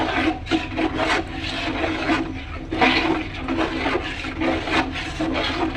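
A pickle mixture is stirred after vinegar is added, giving repeated wet scraping and sloshing strokes that come in uneven bursts, close and fairly loud.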